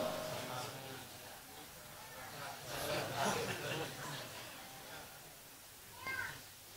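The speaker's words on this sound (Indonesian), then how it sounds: "Telinga mendengar suara kucing" A cat meows a couple of times inside a mosque, a drawn-out call followed later by a shorter one, with faint background noise and murmuring in between.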